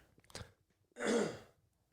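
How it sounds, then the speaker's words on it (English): A brief rough throat sound, then a louder breathy clearing rasp about a second in, close up and in quiet surroundings, from a man with allergies. "I gotta clear my throat"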